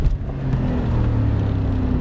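Mercedes SL 55 in race mode with traction control off, engine held at full throttle, producing a steady, loud, close low rumble and drone that continues without a break.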